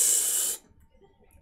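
A chilled soda can cracked open, giving a loud fizzing hiss of escaping carbonation that fades after about half a second, followed by near silence and a short sharp burst at the end.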